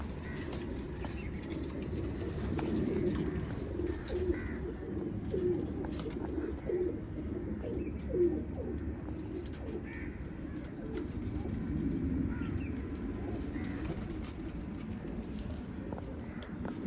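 Soft repeated cooing of flying pigeons, a steady low murmur of calls with occasional wing flaps, fairly close and without talk.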